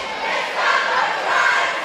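A packed high school gym crowd at a Drury versus McCann boys basketball game roars and cheers, with a dense, loud, sustained mass of voices throughout.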